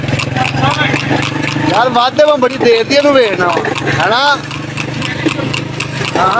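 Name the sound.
horse hooves clip-clopping during a tanga race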